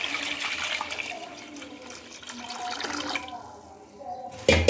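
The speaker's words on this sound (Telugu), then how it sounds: "ఇప్పుడు ఈ బియ్యం పప్పులోకి 9 కప్పుల వాటర్ని అయితే యాడ్ చేస్తున్నానండి." Nine cups of water pour into a pot of rice and lentils being cooked: a steady splashing stream that stops, then a brief clatter of a utensil.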